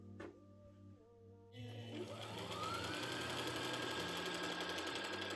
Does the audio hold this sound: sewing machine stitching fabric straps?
yes